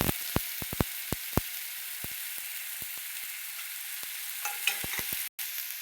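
Roasted coconut masala with tomato fries in hot oil, a steady sizzle running throughout with repeated sharp clinks and scrapes of a stirring spoon against the pan.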